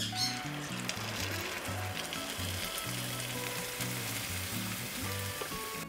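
Ground red chile sauce, strained through a colander, hits browned chicken gizzards frying in a pan, producing a continuous bright sizzle that runs under background music.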